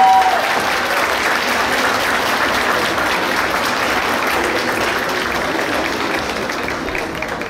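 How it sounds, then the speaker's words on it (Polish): A crowd at a Warsaw high school's pre-graduation ball claps warmly for couples who just performed, a thick, even wash of applause holding steady throughout with a faint voice or two mixed in. "Wielkie brawa!"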